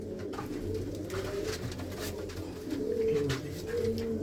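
Pet pigeons coo softly and repeatedly in a loft, several overlapping low rolling calls heard up close over a steady background hum.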